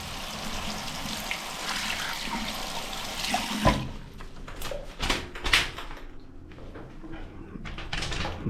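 Tap water pours steadily over a Romanian polymer banknote in Timișoara, a close, rushing hiss that cuts off midway, followed by a few soft knocks and handling sounds in a quiet room.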